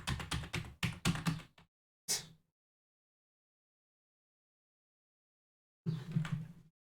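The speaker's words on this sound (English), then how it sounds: "I'm hitting all the keys on my keyboard." Keys on a computer keyboard being hammered in rapid clattering bursts, two dense runs of typing followed by a single tap, a long silence, then another burst of fast keystrokes, close and clear with no talk.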